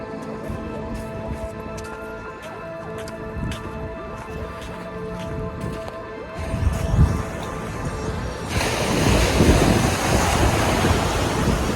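Night surf rolling in at Juhu beach, a steady broadband wash of waves with wind buffeting the microphone, growing louder and fuller in the final few seconds.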